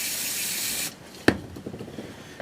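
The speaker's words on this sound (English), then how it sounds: "Spray some more" Cleaner sprays onto a soot-covered surface in one steady close hiss lasting about a second, followed by a sharp knock and soft rubbing sounds.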